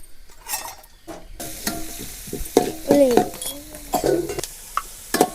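Onion and capsicum go into hot oil with garlic, a sizzle that rises after a quiet start, with clattering stir strokes and metallic scrapes of a utensil against the pan close by.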